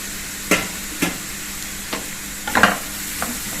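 Turmeric and coriander powder roast in a hot pan under a soft steady sizzle, with a spatula striking and scraping the pan in a few distinct knocks spaced about half a second to a second apart, close up and without talk.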